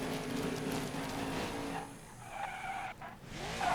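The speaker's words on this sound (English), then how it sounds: "As we go through the turn, we get spun out by Ryan Newman." A race car in NASCAR 21 Ignition spins out, its engine roar giving way to a long tire skid and squeal, with a dip and then a rising engine sound as it recovers, loud and close with no talk.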